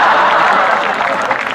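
Steady applause from a crowd at a Hindi comic poetry gathering, dense and sustained for the whole moment, with scattered louder claps near the end.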